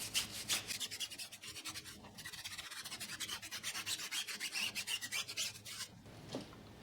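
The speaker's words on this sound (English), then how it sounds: "So I'm going to start scrubbing and you're going to see how filthy that is." A stiff tire brush scrubs the tires of a Volvo car: steady rapid rasping strokes in a quick rhythm, close and moderately loud, continuing alone for several seconds.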